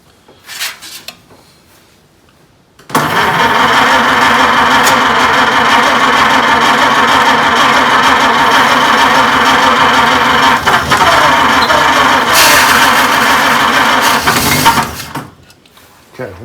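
A 1926 Oakland antique car engine, being brought back after 75 years of sitting, cranks and runs loudly for about twelve seconds with a steady, rough mechanical clatter, then cuts off into quiet.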